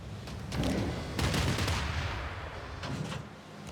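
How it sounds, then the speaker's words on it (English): A battleship opens fire on an enemy submarine in Civilization VI: Rise & Fall, a booming salvo of heavy naval gunfire that rolls through a few seconds with repeated blasts. "I want to go ahead and fire on them with the battleship here"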